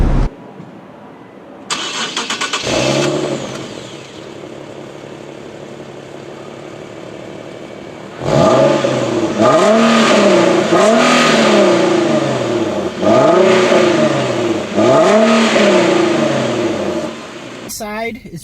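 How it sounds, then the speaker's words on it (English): An Infiniti Q50 AWD engine cranks and starts, settles into an idle, then revs repeatedly in five loud rising-and-falling surges before easing back down, close and prominent. "Now I'm gonna show you really quick how it sounds up when you rev it and all that stuff."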